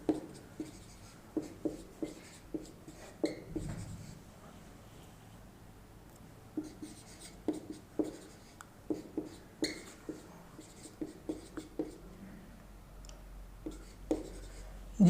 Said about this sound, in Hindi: एक सेट लिखता हूँ मैं